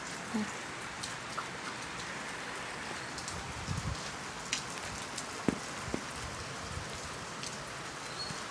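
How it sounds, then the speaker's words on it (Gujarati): Steady rain falls continuously, a soft even hiss with occasional louder drops landing nearby. "વરસાદ એક ધારો શરૂ છે"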